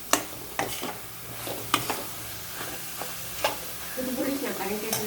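A spoon scrapes and stirs banana flower curry in a hot pan, close up, with a steady low sizzle underneath and intermittent knocks of the utensil against the pan.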